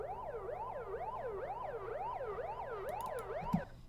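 A synthesized siren in a bass house track wails in steady rising-and-falling sweeps, about eight cycles, over a low sustained drone, ending with a few brief clicks.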